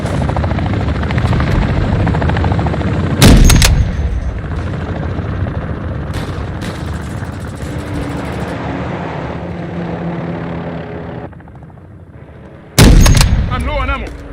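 A cargo helicopter in a video-game battle passes overhead as a continuous loud rotor drone, with two sharp bursts of gunfire cutting through near the start and end and faint voices underneath.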